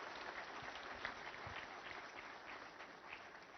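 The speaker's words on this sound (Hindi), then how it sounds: "एक बार जोरदार तालियां हो जाइए इनके स्वागत के लिए" Sustained applause from an audience of students and young people at a New Delhi naval seminar, a steady even patter of clapping at moderate distance throughout.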